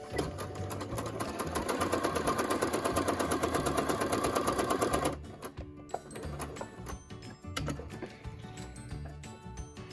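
A sewing machine runs fast and loud for about five seconds while back stitching a fabric face mask, then stops, leaving scattered quieter clicks and short bursts of handling.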